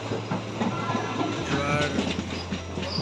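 Steady rumble and rhythmic clickety-clack of an Indian passenger train rolling along the tracks, heard from aboard, with a faint metallic squeal.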